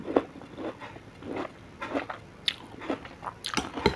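Someone eats a Thai curry of beef with mixed vegetables and pickled greens served with fermented fish chili dip, with close, irregular bites and wet crunchy chewing sounds coming in uneven bursts.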